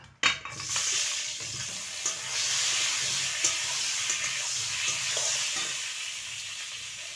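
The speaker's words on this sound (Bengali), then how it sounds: "বেগুনগুলো ভেজে নেব।" Eggplant slices fry in oil with a loud, continuous sizzling hiss and a few clicks of handling near the start, with no talking.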